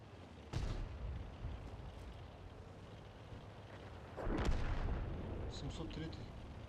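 Gunfire in a Russian-language shooting video game: two heavy booming bursts, one near the start and one past the middle, over steady low rumble, with brief sharp crackles near the end; a voice speaks faintly underneath.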